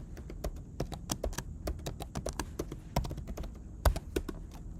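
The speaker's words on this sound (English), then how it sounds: "while I'm typing the password, you will not see characters on the screen" Password being typed on a computer keyboard: a steady run of sharp, close key taps in irregular rhythm, some louder strikes standing out, with no voices over it.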